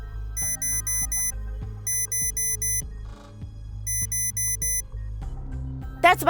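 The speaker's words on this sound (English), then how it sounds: "That's my alarm." A repeating electronic alarm in Minecraft beeps in rapid bursts of high tones over a low droning game soundtrack, pausing and restarting several times.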